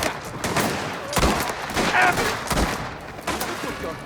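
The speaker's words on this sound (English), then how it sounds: "Just keep shooting!" Gunfire in the video game Mafia: The Old Country, with repeated loud shots and bursts in a chaotic firefight, and shouting voices mixed in.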